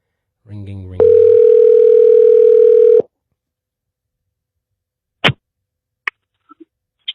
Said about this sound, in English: Call her up. Phone is ringing. It is ringing. Ringing.